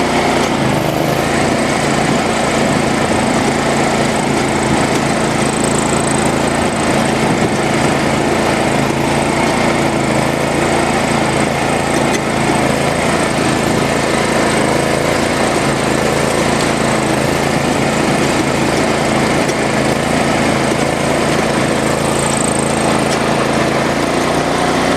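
A John Deere 345 lawn tractor engine held at full throttle, giving a loud, steady, unbroken drone with a high whine on top that stays constant for the whole stretch, with no talk.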